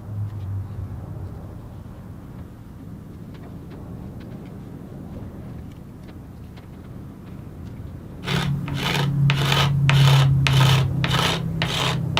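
Card scraper leveling padauk strips on an acoustic guitar rosette, a quiet stretch followed by a run of about eight close, rhythmic rasping scrape strokes.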